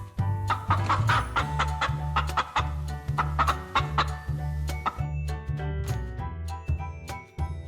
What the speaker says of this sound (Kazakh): Тауық.